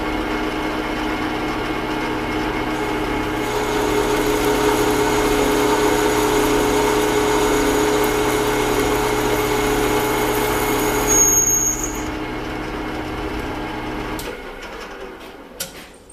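A machine cuts into a metal workpiece with a steady, even mechanical whir that holds through most of the stretch, then shifts near the end and winds down, with no talk.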